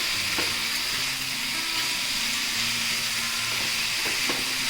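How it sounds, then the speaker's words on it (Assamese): Green amaranth leaves fry uncovered in a pan with a steady, continuous sizzle and hiss, close and even throughout, with a couple of faint stirring scrapes and no talking. "এইখিনি মই খোলাকৈ এনেকৈ ভাজিম"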